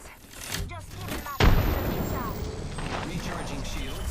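Weapon fire in the video game Apex Legends: a sharp, loud gunshot lands mid-clip over steady background game noise, with fainter shots and talking around it.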